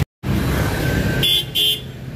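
Heavy street traffic rumbles through Quiapo, Manila, with engine noise filling the air and a car horn blaring twice in quick succession close by.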